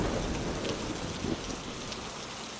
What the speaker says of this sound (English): It began again with the rain.